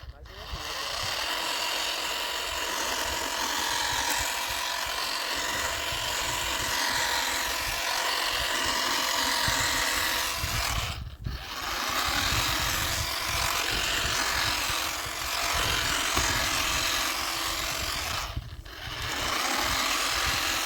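A small battery-powered grass-cutting machine whirs steadily with a high buzzing whine as it cuts fodder grass, pausing briefly twice before starting again.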